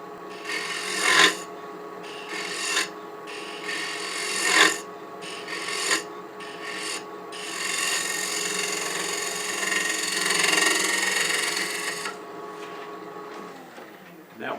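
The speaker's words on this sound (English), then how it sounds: "I'll just use this large round bowl scraper to just get in the center." Harsh rasping and scraping as a large round bowl scraper cuts into spinning wood on a lathe, a continuous grinding with a few sharper bursts and brief pauses.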